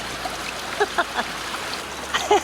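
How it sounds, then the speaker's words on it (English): Brook water running along a hiking trail in Newfoundland, a steady close trickle and babble with a few brighter splashy gurgles, continuous throughout. "We've just arrived at the Dinky Brook"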